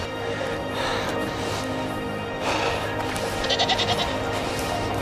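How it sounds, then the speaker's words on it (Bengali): A herd of goats bleats on a mountainside along the Karakoram Highway, several calls overlapping at moderate distance over steady outdoor background noise, with a quick run of bleats toward the end. "একটি ছাগলের দল"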